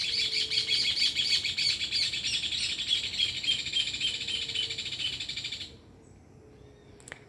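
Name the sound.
birds chirping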